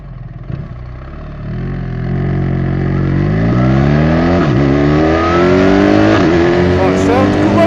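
A mapped BMW R1300GS motorcycle engine revs up while riding, climbing steadily from a low rumble into a loud, sustained drone with rising pitch and brief shifts in tone.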